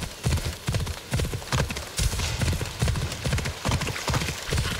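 A horse in Assassin's Creed Odyssey clip-clops steadily, its hooves beating in a quick, even, close rhythm throughout.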